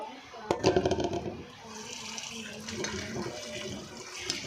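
Tap water runs steadily over pumpkin and potatoes being rinsed in a home kitchen sink, with a splashy burst early on and then a continuous close gush with faint clatter.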